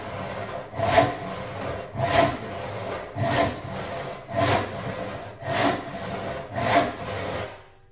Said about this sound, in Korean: 이런 식으로 톱질을 하면 됩니다